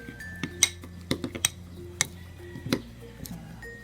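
Crushed Oreos get mixed in a bowl for slime, giving scattered light clinks and taps of utensil against the bowl, irregular and fairly close.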